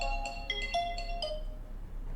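A bright electronic ringtone plays a quick rising melody of tones, clear and close, with no talking.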